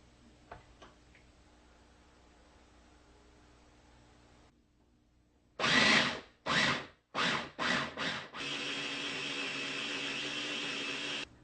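A blender whirs through tomato soup sauce after a quiet stretch, first in several short loud pulses, then in one steady continuous run close by.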